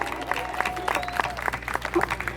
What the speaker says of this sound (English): I think we can give Cetra a really, really big round of applause